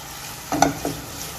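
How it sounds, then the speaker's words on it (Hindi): A quick scrape of a spoon stirs carrots with onion in a frying pan, with two short strokes over a soft background sizzle. "थोड़ी सी कैरेट डालकर हिलाएंगे।"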